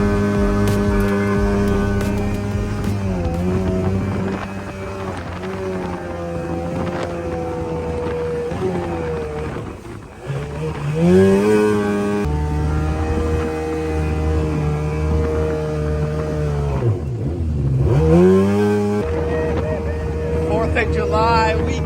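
A 1989 Kawasaki Jetmate jet boat with a swapped 750cc engine idles as it warms up on a Texas lake, a steady low drone that rises and falls in pitch twice, with wind noise and people talking nearby.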